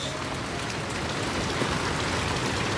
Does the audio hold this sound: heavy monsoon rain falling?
yes